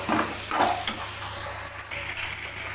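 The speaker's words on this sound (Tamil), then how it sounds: "வெங்காயம் பூண்டு இதெல்லாம் போட்டு நல்லா வதக்கிக்கலாம்" Onion, garlic and tomato are sautéed in a pan for a ridge gourd chutney, producing a steady close sizzle with repeated scraping stirs throughout.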